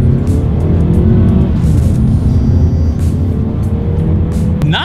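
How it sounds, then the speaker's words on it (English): A 2019 Mazda 3 in sport mode accelerates hard from inside the cabin, its engine droning loud and steady as revs climb with faint gear-shift dips, and no one speaks over it. "we are going to do a quick little acceleration here, and let's see how quickly we can get the new 2019 Mazda 3 up to speed"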